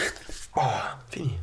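A dog whimpers in short, high, nasal whines, two or three close cries with brief pauses between them, alongside a spoken voice.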